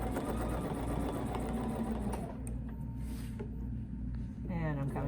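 A sewing machine stitches a quilt block guided by a ruler, its motor running as a steady, close, continuous whir with faint rhythmic needle clatter under a person talking.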